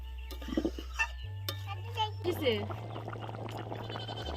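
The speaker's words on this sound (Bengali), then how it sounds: "এবার নারকেলের দুধটা দিয়ে দেবো এবার একটু নাড়িয়ে নেবো" A spoon stirs village-style egg curry in a pot just after coconut milk goes in, with soft scraping and clinks under a voice and a steady low hum.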